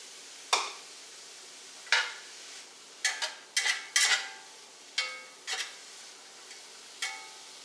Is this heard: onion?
yes